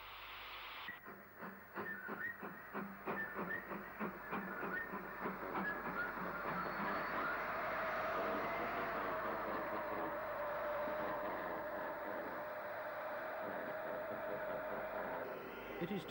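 GWR steam locomotive 7029 moves off shed, giving faint, rhythmic chuffing and clanking at first that settles into a steady, rolling mechanical rumble at a distance.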